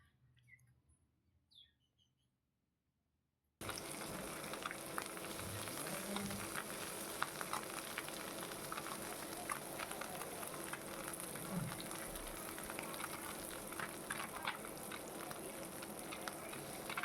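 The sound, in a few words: frying fish and vegetables in a pan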